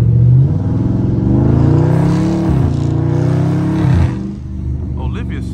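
A Dodge Scat Pack engine rumbles loudly nearby while drifting, with shifting revs and crackling exhaust burbles, while a voice seems to mix in with the engine noise.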